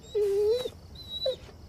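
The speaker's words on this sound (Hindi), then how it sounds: "ये तो एक कुत्ता है।" A dog whimpers in two short, high, whining cries, the first longer and the second brief, close and fairly clear against a quiet background.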